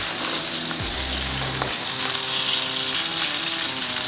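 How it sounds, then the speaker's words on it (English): A grass-fed steak sears in a cast-iron pan with butter, giving a loud, close, continuous sizzle and spatter with a brief low scrape as it shifts in the pan. "We're gonna sear that other side."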